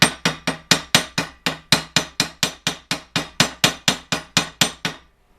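A hammer peens over a pin on the hogshead of a 1925 Ford Model T. About twenty sharp metallic blows ring out close and loud in a steady, even rhythm, then stop.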